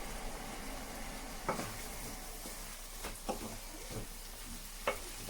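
Chana masala being stirred in a cooking pot, a soft steady sizzle and scraping with a few sharp clicks of the spoon against the pot.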